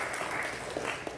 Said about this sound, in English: Can you just give yourselves a round of applause